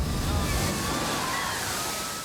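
A theme park water ride vehicle plunges through water, producing a loud, broad rush and slosh of spray that starts strong and slowly fades over a couple of seconds.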